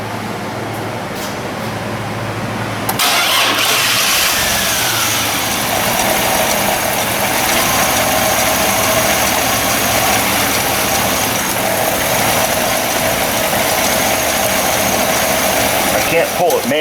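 Chevy S-10 pickup truck with a faulty four-wheel-drive system, its engine cranking and catching, then settling into a loud steady close idle that runs on throughout, with a voice briefly heard over it.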